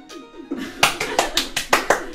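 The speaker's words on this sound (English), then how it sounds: "Sarcasm claps are not permitted" Slow, deliberate hand claps land roughly evenly, about six sharp close claps in a row, loud and crisp, with voices and noise in the background.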